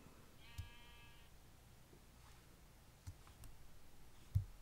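Sheep bleat in a video game, a short wavering bleat early on followed by faint clicks and soft thuds over quiet ambient background.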